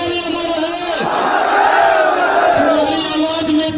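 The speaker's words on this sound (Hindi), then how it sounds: "हजारों लोगों की भीड़ इस महापंचायत में थी।" A large crowd at a mahapanchayat gathering shouts loudly and continuously, a dense roar of many voices that swells and holds for the whole stretch.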